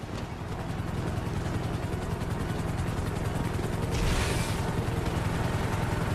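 Approaching helicopters in GTA Online, a dense steady rotor drone with continuous low rumble throughout, a brief burst of hiss near the end amid the game's combat noise.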